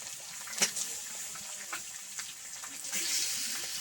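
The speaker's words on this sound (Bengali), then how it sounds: "এইবার আমি এই রসুন ভাজার ইয়েতে চিকেনটা দিয়ে দেবো।" Chicken pieces hiss and sizzle in hot oil with fried garlic in a pan, a steady frying wash with a few brief clatters as the meat goes in, fairly quiet and alone.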